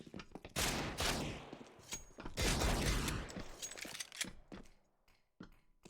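Counter-Strike gunshots from a pistol fight on the rails of the Overpass map in a professional esports match, two dense bursts of sharp close shots followed by scattered quieter cracks and mechanical clicks, with no talking.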